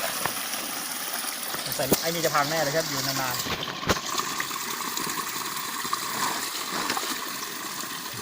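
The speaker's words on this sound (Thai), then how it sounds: "น้ำตกครับโอ้โหน้ำตกจริงๆครับ" Water pours steadily from a hot springs waterfall in Krabi, a constant broad rushing wash heard nearby while someone talks over it.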